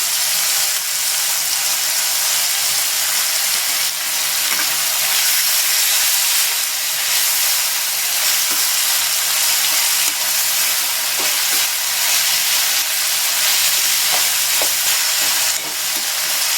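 Tomatoes and curry leaves sauté in a hot pan for a Tamil tomato-and-lentil rice dish, giving a loud, continuous, close sizzle and hiss with small crackles and no talking.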